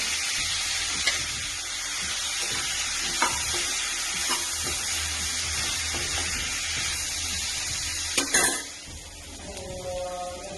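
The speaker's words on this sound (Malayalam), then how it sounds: "ഈ എണ്ണയിലേക്ക് ഇനി കോളിഫ്ലവറും ഉരുളക്കിഴങ്ങും കൂടെ ഇട്ട് കൊടുക്കുകയാണ് അതൊന്ന് ഫ്രൈ ചെയ്തെടുക്കണം" Cauliflower florets and potatoes frying in hot oil, with a continuous close sizzle, occasional spoon knocks against the pan, and a louder clatter toward the end as the sizzle eases.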